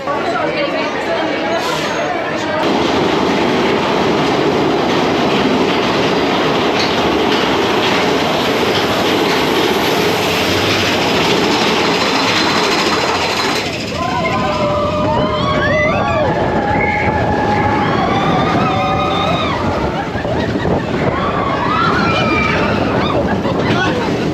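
The Big Thunder Mountain Railroad coaster train at Magic Kingdom rumbles and clatters along its track amid loud, busy crowd chatter, with whistle-like tones rising in the later part.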